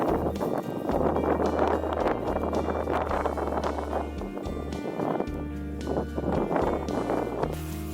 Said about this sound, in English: because it was so open, it was really windy there